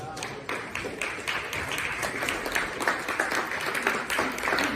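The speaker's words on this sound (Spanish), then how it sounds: "Denle palmas a la palabra." Church congregation clapping during a sermon, dense steady applause with voices mixed in beneath the claps.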